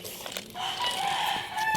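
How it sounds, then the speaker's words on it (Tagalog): A rooster crows loudly and close by, one drawn-out call filling the short clip over faint background noise. "Pasensya na dahil maingay yung manok pa."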